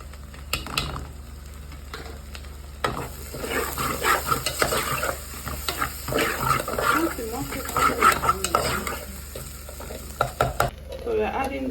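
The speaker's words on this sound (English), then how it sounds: "We're going to give that a good mix" Abacha African salad being mixed in a bowl, with salt and pepper added, giving a steady run of wet, crackly stirring and scraping close by, alone and lasting throughout.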